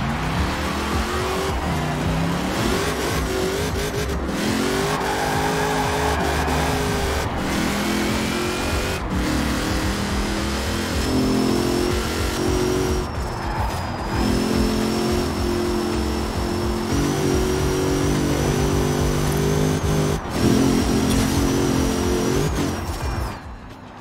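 In Forza Horizon 4, a car fitted with its most powerful engine and capable of about 359 km/h roars loudly and continuously, revving up and down. Tires squeal at times over the steady engine noise.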